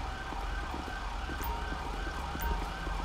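Police car sirens in the LSPDFR mod for GTA V, a steady electronic wail with a low engine rumble underneath, continuous and fairly loud for the whole stretch with no talking.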